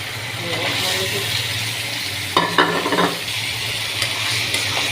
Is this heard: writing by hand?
no